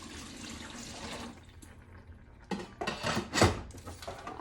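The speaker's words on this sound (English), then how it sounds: "Add a little bit more water to that." Tap water splashes and gushes into a large cooking pot on a kitchen stove, starting after a quieter stretch and swelling louder in bursts with sloshing, no talking over it.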